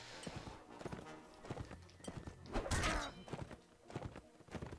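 Galloping horse hooves in the medieval battle game Mount & Blade: Warband, rhythmic clip-clop thuds mixed with clashes and impacts, fairly faint amid battle noise.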